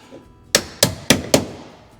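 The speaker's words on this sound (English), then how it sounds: "tap it in a bit with the hammer" Four sharp metallic hammer taps in a quick, even rhythm, close up, with quiet pauses between strikes, as a spring is tapped into place during a 1971 Pontiac Ventura II Sprint rebuild.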